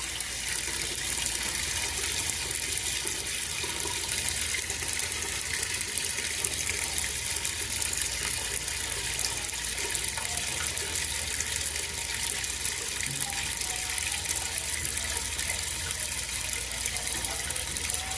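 Water pours steadily down a toilet drain line during Caribbean plumbing work, a constant close rushing and gushing flow with no pauses.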